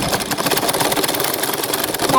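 A sewing machine stitching a dress, running in a fast steady whirring chatter, close and continuous with no pauses.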